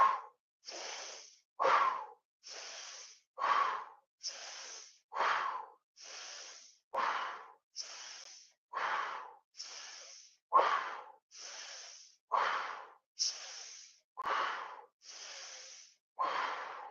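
Deep, rhythmic breaths during a breathwork exercise, around seventeen forceful airy strokes about a second apart, each sharp and close with brief silent gaps between them.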